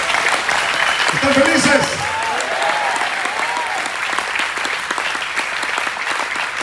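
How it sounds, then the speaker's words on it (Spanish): A church congregation at an evening service claps steadily and continuously, a loud, full round of applause while someone speaks over it near the start. "vamos con un aplauso de alegría al Señor"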